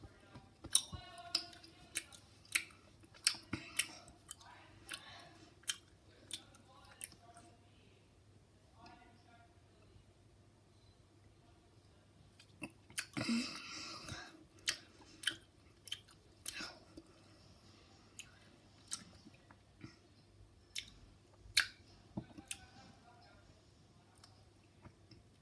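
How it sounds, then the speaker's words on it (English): Someone chews a Skittle candy close to the mic. Faint wet chewing and small clicks come irregularly over a quiet background. "I'm gonna reward myself with a Skittle."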